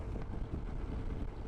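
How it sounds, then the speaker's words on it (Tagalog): Strong wind buffets the microphone in a steady low rumble, gusting slightly throughout with no voices. "Lakas ang hangin."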